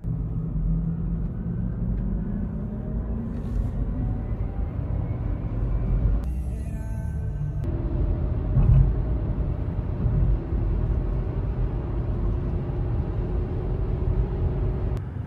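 A Rivian electric vehicle cruises along the road, giving a steady low rumble of tyre and road noise from inside the cabin, with a brief hiss partway through.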